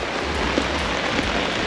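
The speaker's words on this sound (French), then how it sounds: "Vive la pluie." Steady rain pattering on a sailboat moored off Tahiti, a dense, even hiss of drops on deck and water with no voices.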